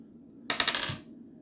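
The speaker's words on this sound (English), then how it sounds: "we still have to roll the dice for the next ones" Dice clatter onto a hard surface during a tabletop game, a short close burst of rapid rattling impacts that quickly settles into quiet.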